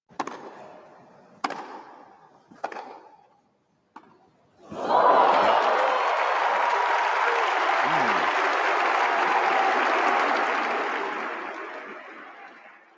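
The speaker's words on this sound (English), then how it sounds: "it seems that the crowd was cheering when Djokovic won a point" A Wimbledon crowd at a Djokovic–Rune tennis match: after a few sharp ball strikes on court, a large stadium audience breaks into loud, sustained applause and cheering that swells quickly, holds for several seconds, then slowly fades.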